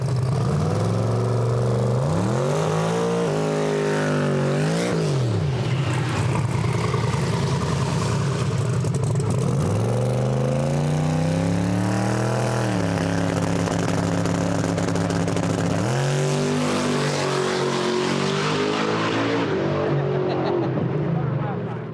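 A turbocharged race car engine running at 18 pounds of boost, revving up and down in repeated sweeping climbs and falls, loud and close throughout with a voice talking over it.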